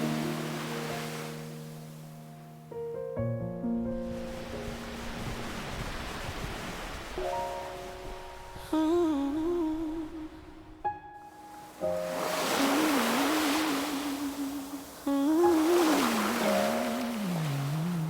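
Gentle ocean surf washes in a steady soft hiss beneath mellow, cozy R&B café music with a melodic voice, the waves swelling and easing throughout.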